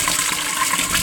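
Water gushes steadily into a metal pot as it is filled, a short, loud, continuous rush with no voices.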